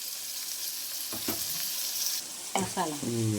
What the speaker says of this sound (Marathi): कांदा मऊ झालाय आता टोमॅटो पण टाकलाय